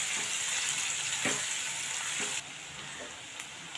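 Chopped onion and curry leaves sizzle steadily in a hot pan for Maharashtrian shev bhaji, with a continuous bright frying hiss and occasional stirring scrapes, the sizzle dropping slightly softer partway through.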